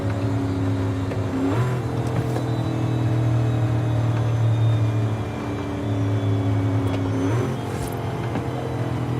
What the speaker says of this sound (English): Oh, y'all hear that rev match?